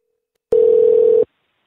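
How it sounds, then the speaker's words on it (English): A single steady telephone tone sounds loud and clear for under a second while a call is being placed to a sports radio station, then cuts off to silence. "we're about to get Roberto Padilla on the phone from Mile High Sports Radio in Denver, Colorado"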